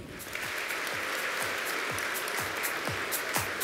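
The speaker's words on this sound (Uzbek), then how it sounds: "Qarsaklaringiz." Audience applause at a corporate rebranding launch for Agrobank, a steady, dense clapping from a large crowd that holds an even level throughout without letting up.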